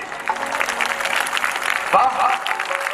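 Clapping from a seated audience at a Shrimad Bhagwat Katha religious gathering, a steady wash of many hands throughout, with a voice speaking over it.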